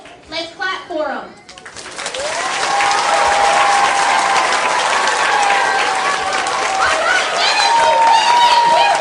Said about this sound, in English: let's give a big round of applause to our Minute to Win It contestants as they come back in